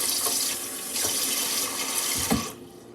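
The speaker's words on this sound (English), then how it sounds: "You can hear the water in the background." Tap water runs steadily into a kitchen sink during handwashing, a continuous broadband splash that holds for over two seconds with a few soft bumps before cutting off abruptly near the end.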